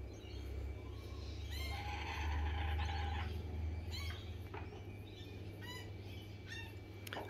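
Faint high chirps from a baby bird perched on the back of an outdoor chair come in short scattered calls over a steady low hum.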